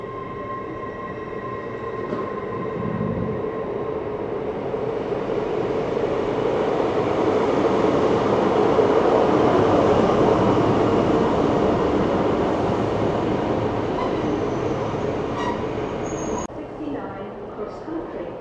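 A five-coach train rumbles steadily at close range at a station platform in Doncaster, its broadband roar swelling and then easing off, with faint tonal hums and brief clanks near the end.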